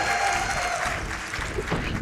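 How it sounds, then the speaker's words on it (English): An audience applauds at the Awesome Games Done Quick speedrunning marathon. A steady wash of clapping fills the room, even and sustained, with faint voices mixed in. "can we please get a round of applause for JD for doing a wonderful job hosting"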